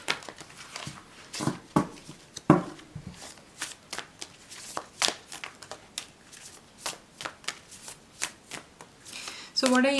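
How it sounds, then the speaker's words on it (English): Tarot cards being shuffled by hand, with a steady run of crisp riffling and slapping bursts close up, ending with a brief squeak. "my method of shuffling is, I always take cards that flip over and fall down naturally"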